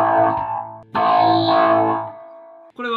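Electric guitar played through a BOSS VO-1 vocoder sounds like a distorted robotic voice, with sustained buzzing chords in two long swells and a short stab at the end, loud and close.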